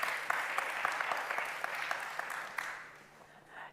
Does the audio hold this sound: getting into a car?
no